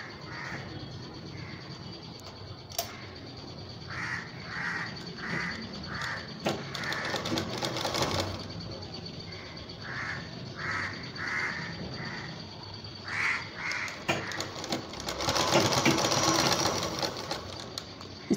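A sewing machine stitches double-folded piping onto a garment's round neckline, its rapid whirring running in repeated short bursts with brief pauses, close and fairly loud over a busy, noisy room.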